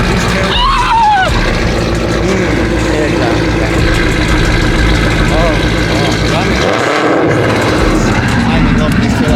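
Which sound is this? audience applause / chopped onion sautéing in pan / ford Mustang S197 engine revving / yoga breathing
ford Mustang S197 engine revving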